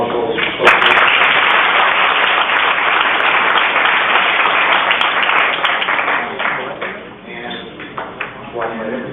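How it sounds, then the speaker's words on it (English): Audience applause at a 1994 professional photographers' event, a broad, loud wash of clapping from a crowd that holds steady and then thins out toward the end, with some voices mixed in. "How about a round of applause for those folks?"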